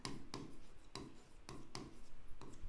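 Marker or chalk strokes writing an answer on a board during a geometry lesson, five or six short sharp scratches in an uneven rhythm, close and quiet with no talk.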